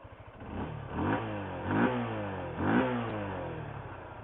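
A Haojue DR 160S fuel-injected motorcycle engine starts and idles, rising in three short revs near the bike, with a smooth, fairly soft mid-pitched note between them and no talk.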